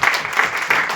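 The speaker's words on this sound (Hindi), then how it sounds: "तालियों से स्वागत" Guests at a party meeting in Nagpur burst into applause, a brief, dense patter of many hands clapping at close range with a slightly pulsing rhythm.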